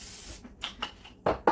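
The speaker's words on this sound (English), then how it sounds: "you will want to go ahead and spray this" Cooking spray hisses into a crock pot: one long steady spray, then several short close bursts in quick succession, with no talk over them.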